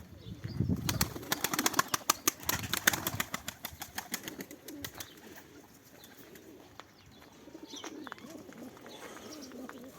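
Pigeons taking off and flying, with bursts of wing flapping and claps, soft cooing and chirps, loud at first and then fading into quieter rustling.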